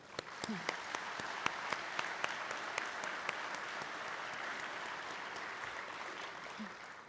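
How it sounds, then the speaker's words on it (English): Steady applause from an audience at a public transportation conference's opening general session, many hands clapping at once with some sharp individual claps standing out near the front. "Please join me in giving them each a round of applause."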